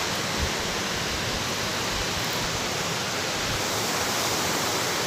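A waterfall on the Appalachian Trail in Maine roars in a constant, dense rush of water, loud and unbroken for the whole stretch.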